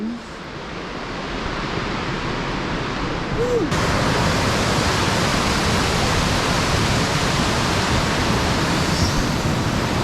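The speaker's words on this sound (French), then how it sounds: "Et en fait ici le truc c'est qu'il y a des vraies grandes cascades" Large waterfalls in Greece produce a loud, continuous roar of rushing water that is steady and unbroken from start to finish, with no voices.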